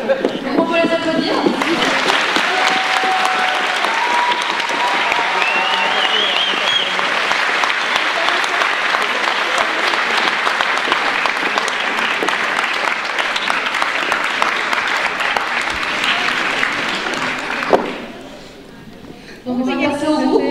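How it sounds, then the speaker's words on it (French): Sustained, loud applause fills the hall for cosplayers on stage at a science-fiction festival, a long even wash of clapping that drops briefly near the end before resuming, with a voice heard at the start. "Donc on peut les applaudir."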